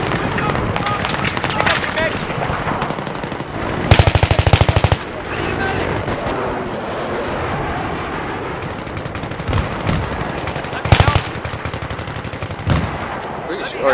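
Machine gun fire in the Battlefield 3 video game, with loud bursts of rapid automatic shots around the 4 and 11 second marks amid continuous battle noise while players talk over it.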